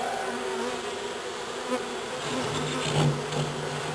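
A dense, steady buzz of honeybees fanning pheromone hums close by while a package of bees is installed in a hive, a continuous droning swarm with slight swells in pitch.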